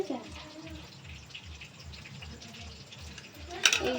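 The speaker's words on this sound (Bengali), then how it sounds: "এই জলটাকে ঝরিয়ে নিচ্ছি," Water drains and trickles off battered Bombay duck fish in a kitchen, a soft, low patter with a faint rhythmic thump beneath and a brief clatter near the end.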